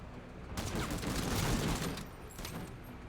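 A dense burst of rapid gunfire from the tactical video game MENACE swells for about a second and a half, trailing off into scattered shots.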